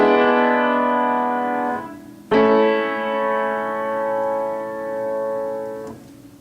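Two sustained keyboard chords ring out: a dominant seventh chord with the bass moving to scale degree 1. The first fades after nearly two seconds, then a sharper attack brings a second long chord that holds and decays, with no voices.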